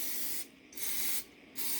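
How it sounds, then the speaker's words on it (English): A can of butter-flavored cooking spray sprays muffin cups in two steady hissing bursts up close, each lasting under a second, with a brief pause between them. "I'm going to first spray my muffin cups well."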